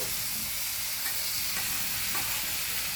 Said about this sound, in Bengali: এখন পাস্তাটা দিয়ে দিচ্ছি